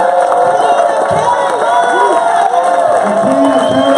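A large audience at a Karatbars World Tour 2018 stage event cheers loudly, with whoops and shouts over a continuous, close crowd roar that stays at full volume throughout.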